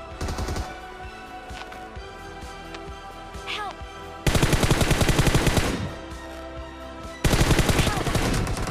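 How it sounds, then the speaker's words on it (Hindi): Rapid automatic fire from an MK47 Mutant rifle in a battle royale video game comes in two loud, dense bursts of about a second and a half each, separated by quieter in-game sound and scattered single shots. "दूसरे वाले ने मेरे पे फायर करने का ट्राई किया"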